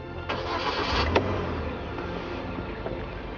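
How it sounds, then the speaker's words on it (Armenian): A Kia Cerato sedan's engine starts by push button: a short cranking whir catches into a low, settled idle that hums quietly on, heard from inside the car. "իսկ շարժիչը գործի է դրվում այս կոճակի օգնությամբ։"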